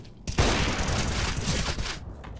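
Gunfire in the shooter game Counter-Strike: Global Offensive, a sustained burst of rapid automatic shots, loud and close, that cuts off abruptly near the end.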